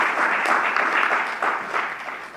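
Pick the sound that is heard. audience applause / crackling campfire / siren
audience applause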